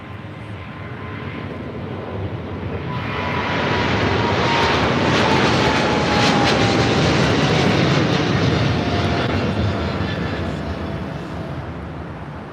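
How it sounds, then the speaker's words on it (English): A China Southern Cargo Boeing 777 freighter takes off on runway 25 left at LAX. The loud jet roar swells, holds strongly with a falling whine, then eases slightly, heard from a distance without talk. "We have the 777 freighter now rolling on 25 left."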